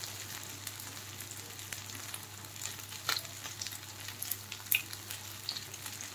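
Corn and fenugreek kebabs fry in a pan with a steady, moderate sizzle, punctuated by a few soft clicks and taps as they are turned.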